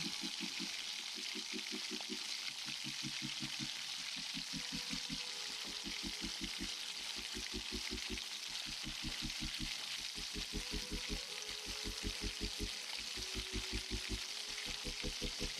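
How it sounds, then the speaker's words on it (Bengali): A steady, crackling sizzle of potatoes frying in hot oil in a kadai (wok) until reddened, close and continuous, with a faint rhythmic low thumping underneath. "কড়াইতে তেল গরম করে আলুগুলো প্রথমে লাল করে ভেজে নেব।"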